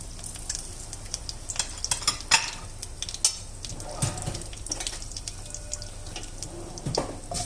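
Cumin seeds and curry leaves are sautéed in a pan for bread upma, with a soft sizzle, intermittent scraping and stirring clicks, and running water in the background.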